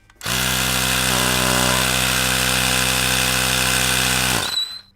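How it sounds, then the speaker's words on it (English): Electric tire pump inflating the front tire of a Razor MX350 dirt bike, a loud, steady motor drone with a whining hum that starts abruptly, runs about four seconds and cuts off. "Attach your tire pump and inflate to 45 psi."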